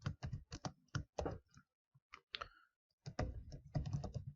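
Keystrokes clatter on a computer keyboard while default values are hard-coded, with bursts of close, crisp clicks, a short pause partway through, then a denser run of typing.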